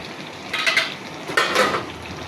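A lid comes off a cooking pot of pumpkin, potato and black gram dal with two short metallic clinks and scrapes, close and clear over a faint background hiss.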